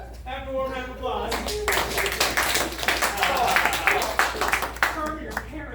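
Warm applause from a small audience at an acting class scene study show, brisk overlapping clapping that starts after a voice and builds, then fades as talk returns.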